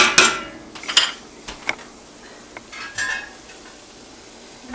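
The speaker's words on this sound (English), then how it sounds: "A little stir." A spoon stirs creamy chunky potato soup in a pot, with a few distinct clinks and scrapes against the metal spaced over a quiet, soft bubbling background.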